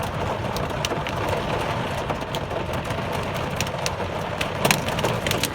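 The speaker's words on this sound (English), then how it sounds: "It's hailing." Hail falls during a major rainstorm with lightning: a dense, steady roar of rain with sharp ice pellets cracking and ticking on surfaces throughout, loud and close.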